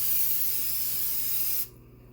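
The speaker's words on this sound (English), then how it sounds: "Let's put in a little non-stick spray." A steady, bright hiss of aerosol non-stick cooking spray into a pie plate, held for about a second and a half, then cut off abruptly into near silence.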